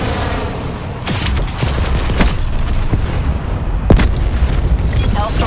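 Hellstorm missile strikes in Call of Duty Black Ops land as a series of sharp booming explosions, loud and close, amid continuous rumbling battle noise, with a game announcer voice speaking.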